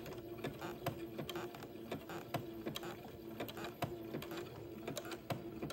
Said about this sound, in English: I'm going to zigzag this lace to the edge.